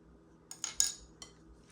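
A utensil scraping and clinking against a bowl while mixing salmon cake mixture, four or five short, close, bright taps in quick succession with no voice.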